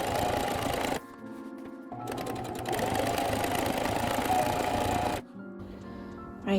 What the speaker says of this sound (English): sewing is all done